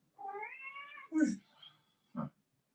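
A cat meows in a long, drawn-out call followed by two shorter, sharper meows, close and clear against a quiet room during a yoga session.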